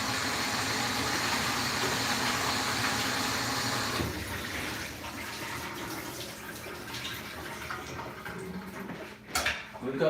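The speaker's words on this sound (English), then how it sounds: "Let's rinse the jalapeno." A kitchen tap runs steadily as a jalapeno is rinsed under it, a loud hiss of water for several seconds that then quiets to a softer flow with a few light clinks near the end.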